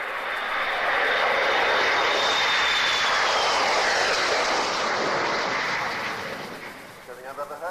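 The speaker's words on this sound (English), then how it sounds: "Okay, let's get back to the sounds of the aircraft." A Harrier jet's engine roars loudly and steadily, a broad whooshing jet noise that holds for several seconds before tapering off, heard close with no other sound competing.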